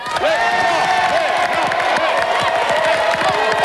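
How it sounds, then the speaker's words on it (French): A game show studio audience applauds and cheers for a team, loud and sustained, with whoops and shouts rising over dense clapping and a presenter's voice mixed in. "Applaudissements pour les Blancs"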